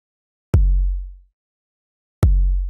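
High and low kick drum samples from Logic stock instruments layered into one sound, two hits with a sharp click of attack over a deep, decaying boom.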